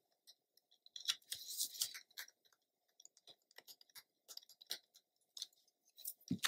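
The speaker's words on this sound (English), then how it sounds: "I'm gonna take off this little bit of tape here. I just score it and then I roll it off." Tape being scored and peeled off a paper-crafting page: a close, irregular run of crisp little snips, scratches and ripping crackles, with short pauses between bursts and no talking.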